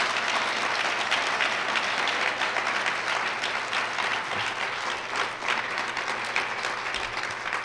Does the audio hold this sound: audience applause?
yes